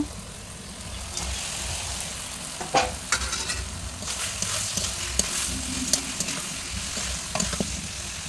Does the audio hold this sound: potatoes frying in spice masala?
yes